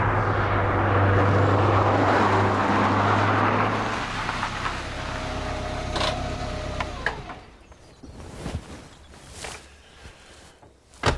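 A Lancia Delta Integrale four-wheel-drive car drives past: a loud engine roar in the first seconds fades away, leaving quieter ambient rumble and scattered clicks.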